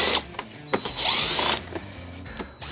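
Hex nuts come off the lower fascia panel of a 2017 Chevrolet Corvette with a power tool: short ratcheting clicks and taps, then a sustained whirring whine for about half a second, then more scattered mechanical knocks.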